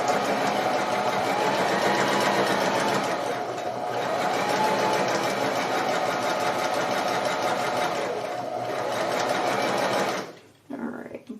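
A sewing machine stitches a quilt test block of squares and rectangles, a fast steady mechanical whir running continuously before stopping near the end, with a voice talking over it.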